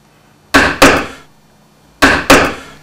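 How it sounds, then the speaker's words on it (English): An inch-wide chisel struck by a mallet while carving elm wood gives four sharp, close woody knocks in two quick pairs, each ringing briefly before fading, with no talking. "I'm just using an inch chisel."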